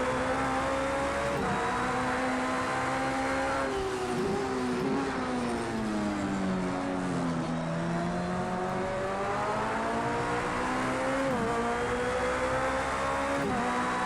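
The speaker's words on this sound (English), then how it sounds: "Just let you listen to that Judd engine just for a little while there" A Judd race car engine in Project CARS 2 drones and revs steadily during a Daytona endurance race, pitch rising and falling through gear shifts, loud and continuous with no talking.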